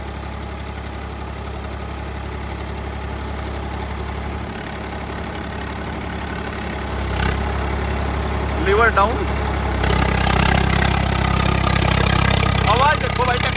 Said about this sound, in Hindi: आवाज देखो भाई ट्रैक्टर की, पहले आवाज चेक करो।